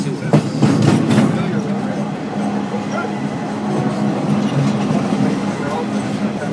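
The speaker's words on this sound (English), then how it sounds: "And the train is coming." A Florida East Coast Christmas charity train passes a siding on its rails with a loud, close rumble and clattering wheel noise, starting with a few sharp clunks, then settling into a steady rolling roar.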